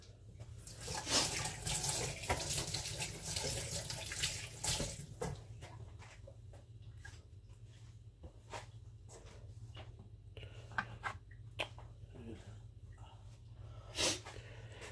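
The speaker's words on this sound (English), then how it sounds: "Just wash my hands." Tap water runs into a kitchen sink while hands are washed, a loud hissing splash for several seconds, then quieter drips, clicks and handling sounds as the flow eases.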